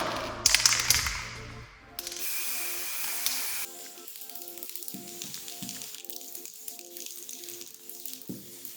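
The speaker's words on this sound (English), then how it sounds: "So shaking up is good, and let's start." An aerosol can of spray paint hisses in short bursts and then longer sprays, close by, with a faint rattle and some clatter near the start, as a piece is painted for dipped art.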